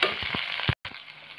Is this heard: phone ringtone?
no